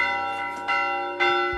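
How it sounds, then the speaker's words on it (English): An alarm bell rings suddenly in an anime scene, a bright sustained metallic tone with two or three struck swells that ring on and decay, loud and alone. "Suddenly, an alarm bell rings."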